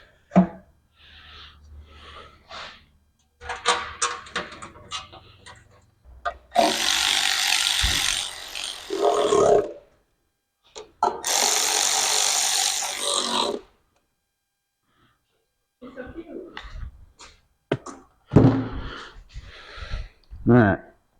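A ratchet snugging the bolts on a rebuilt engine's gasket, heard as bursts of rapid clicking and rasping with pauses between them, mixed with a voice talking nearby.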